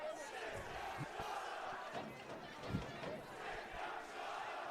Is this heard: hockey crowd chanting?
yes